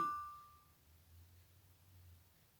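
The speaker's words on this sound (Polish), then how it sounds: "Dlaczego ktoś do mnie przyszedł i dzwoni do drzwi, kiedy ja nagrywam?" A single doorbell chime at a home rings briefly at the start and quickly fades, followed by low, quiet room hum.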